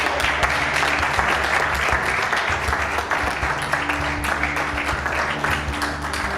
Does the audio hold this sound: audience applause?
yes